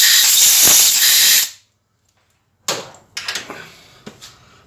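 Compressed air blasts debris out of freshly tapped holes on an intake pipe from a Land Rover OEM Hitachi air compressor, one long loud hiss followed by a pause and several shorter sharp bursts.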